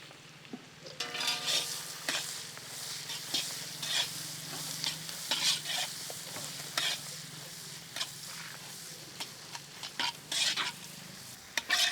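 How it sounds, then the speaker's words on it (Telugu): Finely chopped onions sizzle steadily in butter and cooking oil in a pan while a spoon stirs and scrapes them in repeated bursts, close and continuous, as part of making pumpkin chicken biryani. "కుకింగ్ ఆయిల్ దీంట్లోనే మనం సన్నగా తరిగిన ఉల్లిపాయ ముక్కలు యాడ్ చేద్దాం."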